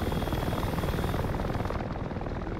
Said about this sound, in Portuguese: Esse helicóptero de transporte.